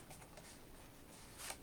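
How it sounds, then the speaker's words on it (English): Tarot cards being shuffled by hand, a soft, brief papery riffle that is faint and close, with a slightly louder burst near the end. "Let me shuffle these."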